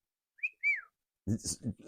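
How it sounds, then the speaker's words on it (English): A short two-note whistle from a person, quick and rising then falling, followed right away by a voice speaking nearby. "That earned a whistle out of me."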